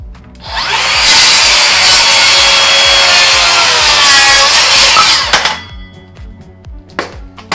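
A Makita XGT rear-handle circular saw set to a 5-degree bevel cuts through wood: a loud, close, sustained whining rip lasting about four seconds, then the blade spins down amid a few light knocks.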